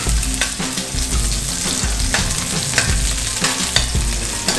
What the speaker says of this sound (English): And now we'll add in with onion. Kind of get the onion going.